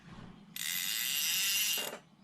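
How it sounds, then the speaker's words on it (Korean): The drag of a Regalis fishing reel gives out as line is pulled, a single sustained burst of rapid, fine ratcheting clicks, close and fairly quiet, lasting over a second and then stopping. "레가리스 드래금 한번 들어보시죠."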